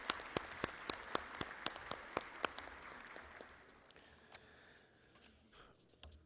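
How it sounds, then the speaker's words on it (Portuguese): A faint, sparse round of applause for students at a formal tribute session in a hall, a few sharp individual claps at first that thin out into a soft, distant patter and fade. "Uma salva de palmas aqui para os estudantes."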